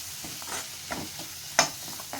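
A spoon stirs salted masala in a pan over a low flame for a paneer cheese dosa filling. Soft, irregular scraping strokes sound over a faint, steady sizzle, with one sharp clink of metal near the end and no voices.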